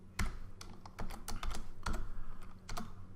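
Typing a cd command on a computer keyboard: a quick run of distinct key clicks, some isolated and some clustered, close and clear with no talking.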